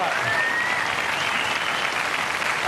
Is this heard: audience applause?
yes